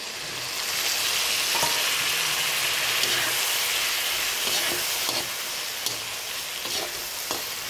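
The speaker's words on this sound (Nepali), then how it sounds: "अब टमाटर राख्दैछु।" Tomatoes go into a hot pan and fry with a steady loud sizzle, broken by occasional clinks and scrapes of stirring.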